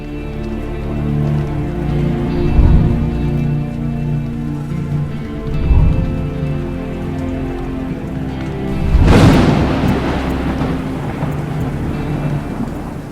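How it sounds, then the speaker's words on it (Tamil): Heavy rain pours steadily in Chennai, with several low thunder rumbles swelling and fading over a constant wash of rainfall, the last roll louder and nearer. "சென்னை மற்றும் அதன் சுற்றுப்புற பகுதிகளில் நேற்று முழுவதும் இடைவிடாது தொடர்ந்த கனமழை"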